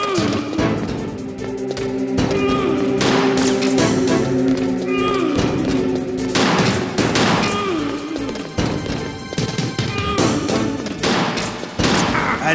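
Revolver gunshots in the PlayStation game Metal Gear Solid's Revolver Ocelot battle, sharp bangs scattered through dense game music and effects, loud and close.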